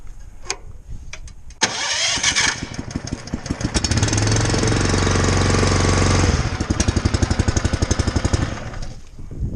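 A pressure washer's small gas engine cranks on choke in near-freezing cold, catches and roars loudly at close range, surging through a steady high-revving stretch before settling into a rapid, chugging idle.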